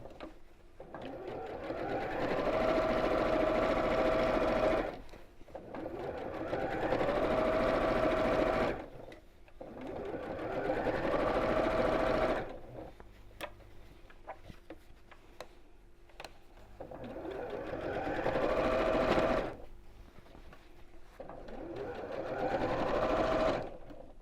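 A sewing machine runs close along a seam on a child's drawstring backpack in six steady whirring bursts of several seconds each, separated by brief pauses with faint ticks.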